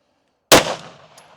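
A single loud, close pistol shot is fired at a target, a sharp crack after a half-second of silence that decays into a brief echo.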